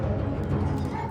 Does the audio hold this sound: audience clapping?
no